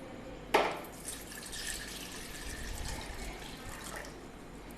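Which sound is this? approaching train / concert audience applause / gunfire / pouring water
pouring water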